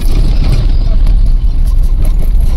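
Heavy road traffic near Manyata Tech Park in Bangalore makes a dense, loud, low roar of passing cars, buses and trucks. It is heard from close by as a steady wash with a slight dip midway, and someone talks over it.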